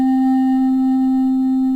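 The Super Mario 1-Up video game sound pitched down two octaves, heard as a single steady, low, buzzy electronic tone with faint overtones, held evenly for about two seconds with nothing else present.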